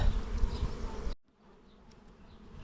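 Honeybees swarm around an open hive as a second brood box goes on, loud dense buzzing close up that abruptly drops to a faint, thinner hum.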